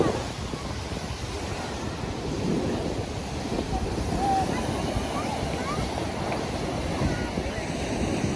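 Stormy Black Sea surf pounding the shore at Langeron beach in Odesa, a continuous loud roar of breaking waves mixed with heavy wind buffeting the microphone throughout.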